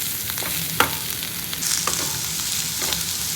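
Bitter gourd frying in a pan gives a steady, close broadband sizzle, broken by a few sharp scrapes and clicks as it is stirred.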